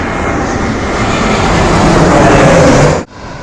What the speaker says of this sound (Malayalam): ഇപ്പോൾ ഒരു ഫ്ലൈറ്റ് വരുന്നുണ്ട്.